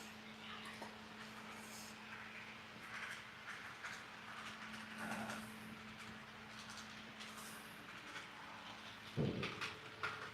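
An HO-scale model train rumbles steadily along its track over a lift bridge with large rail gaps, with a faint hum and occasional clicks, ending in a louder clatter near the end.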